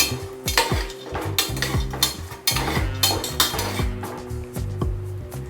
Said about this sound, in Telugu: నెక్స్ట్ హాఫ్ కప్పు జీడిపప్పు ఇవన్నీ బాగా వేపుకోవాలి